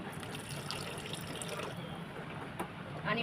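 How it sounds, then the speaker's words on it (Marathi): Steady rushing pour of hot water into a pan of matar paneer curry, fairly quiet and continuous for a few seconds, with a brief clink near the end. "आता यामध्ये थोडंसं गरम पाणी घालायचं आहे"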